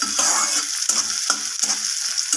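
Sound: frying chopped onion in a pan for dal

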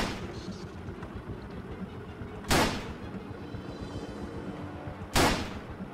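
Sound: gunshots from the video game Lucius

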